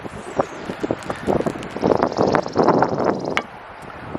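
Gusty wind buffets the microphone beside an outdoor campfire, with bursts of rustling and scattered clattering noises rising and falling over a few seconds.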